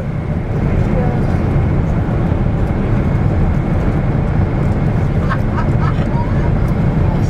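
Steady broadband roar inside the cabin of a Thai Airways Boeing 777 climbing toward cruising altitude, constant and loud throughout, with faint voices briefly audible over the drone.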